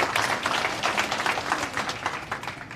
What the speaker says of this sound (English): We can give him a proper huge round of applause,